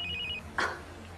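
A telephone rings briefly with a steady electronic tone over room noise, then cuts off as a short burst of another sound follows.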